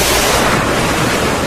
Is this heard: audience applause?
no